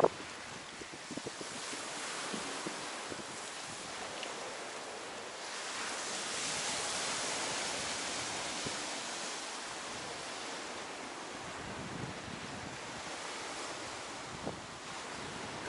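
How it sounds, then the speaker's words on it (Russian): Evening sea waves breaking on a shallow beach at Ayia Napa, Cyprus, a continuous rushing surf that swells and recedes, with wind buffeting the microphone and no voices. "Покажи, какие волны сегодня вечером."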